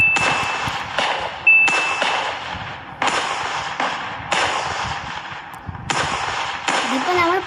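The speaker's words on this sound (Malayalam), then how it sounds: "ഇതിപ്പോൾ നമ്മൾ പടക്കം പൊട്ടിച്ച് കളിക്കുകയാണ്" Firecrackers set off one after another make about six sharp, loud cracks with a clanging edge, spaced roughly a second apart, and voices sound between them.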